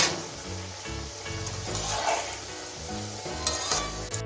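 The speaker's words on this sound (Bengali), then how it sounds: "এখন আমি চষিগুলো ভেজে নেব" Small batches of chushi dough pieces fry in hot white oil in a wok over a medium gas flame, giving a steady loud sizzle with intermittent stirring scrapes and clinks throughout.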